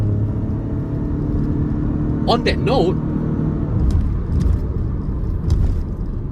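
A Lexus LBX hybrid with a 1.5-litre three-cylinder turbocharged engine drives along, a low steady road and engine rumble in the cabin, with someone talking briefly over it.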